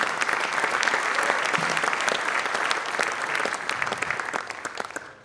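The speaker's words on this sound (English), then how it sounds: "Let's give all those guys a huge round of applause." A crowd at a high school Hall of Fame induction ceremony bursts into loud, sustained applause, many hands clapping densely and evenly before the sound begins to taper off toward the end.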